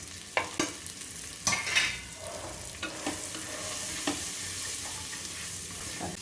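Vegetables being sautéed in a pan for vegetable brinji give a steady sizzle. Several sharp scrapes and taps of a stirring spoon sound near the start, and a few more come later.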